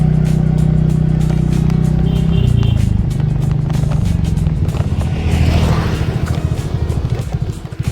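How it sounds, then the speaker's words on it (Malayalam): A motorcycle is ridden through a teak plantation in Wayanad, its engine a steady, close rumble with wind buffeting over it and the pitch shifting partway through. "ഒറ്റ കയ്യിലാണ് കേട്ടോ ബൈക്ക് ഓടിക്കുന്നത്"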